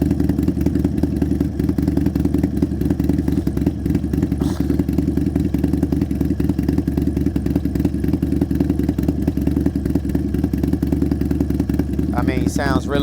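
A motorcycle fitted with a big bore kit runs steadily close by, a loud, even, rapid thumping beat with mechanical clatter throughout and a brief voice near the end.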